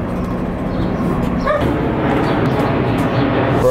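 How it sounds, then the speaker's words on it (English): A dog barks and yips a few times at a distance on a Los Angeles street, the short calls partly masked by steady ambient noise and people talking. "There's a dog back here."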